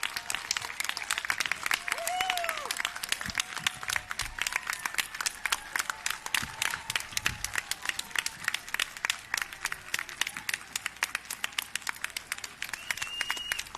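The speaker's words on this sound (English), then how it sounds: "Big round of applause for our jumpers." A crowd at an outdoor Memorial Day service applauds parachute jumpers with sustained, dense clapping that runs steadily for the whole stretch at moderate loudness.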